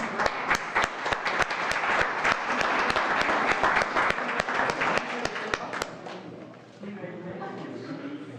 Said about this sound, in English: Let's give all our award winners another round of applause